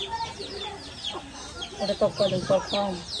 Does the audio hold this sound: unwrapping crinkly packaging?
no